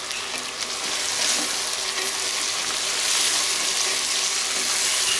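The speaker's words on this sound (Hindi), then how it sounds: "हल्का सा हम भूनेंगे।" Chicken pieces with cumin, turmeric and salt fry in a pan, giving a loud, steady sizzle with faint stirring scrapes throughout and no voices.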